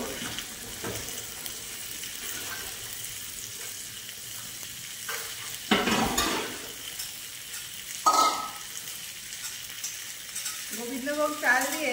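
Green chilies, garlic pieces and poppy seeds lightly frying in a pan, a soft steady sizzle broken by a few louder scraping stirs and clatters, close by.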